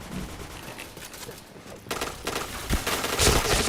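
Gunfire in the Point Blank shooter game, a quieter stretch of scattered shots giving way to louder, dense bursts of rapid fire toward the end.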